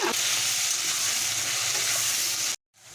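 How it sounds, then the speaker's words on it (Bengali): Steady, loud sizzling of potatoes coated in turmeric and salt frying in hot oil, continuous for a few seconds before cutting off abruptly. "তেলটা আমার গরম হয়ে গেছে সেই আলুটাকে আমি প্রথমে ভেজে নেব"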